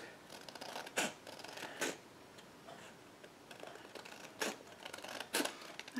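Scissors cut card paper for a handmade Stampin' Up! friendship card, giving a few quiet, separate snips spaced a second or so apart in a near, otherwise quiet room.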